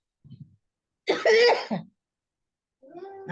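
A person coughs and clears their throat, a soft short sound followed by a louder rough cough, then another throaty sound near the end.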